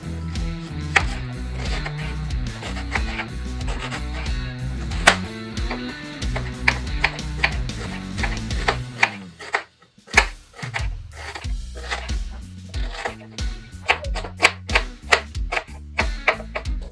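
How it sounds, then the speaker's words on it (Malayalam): A knife chops onion finely on a board in a run of quick, regular, crisp taps, close and fairly loud, with a brief pause midway before the chopping resumes. No voices. "അപ്പോൾ നമുക്ക് ഉള്ളി ഒന്ന് കട്ട് ചെയ്തെടുക്കാം"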